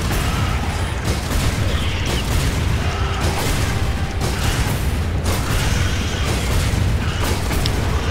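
Gunfire in the video game Resident Evil 5, heavy booming shots and blasts repeating roughly every second over a loud, dense game soundscape with no clear pauses.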